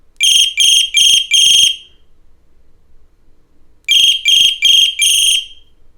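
Flashlight buzzer on a Ycbright YC8001 flat EDC flashlight set to its high-pitch mode, piercing, loud shrill beeps in two bursts of four pulses separated by a pause, heard alone with no talking.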